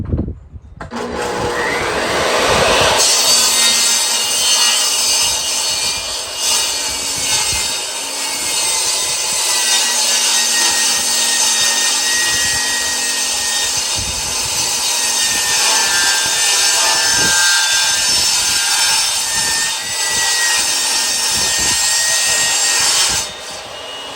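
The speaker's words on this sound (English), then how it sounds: "So I use that and I'm probably cutting it on the wrong way, but I'm not a wood craftsman, but I have a table saw." A home table saw cutting through a wooden board runs loud and steady, a high whining rip that starts after a brief quiet lead-in and holds for about twenty seconds before cutting off.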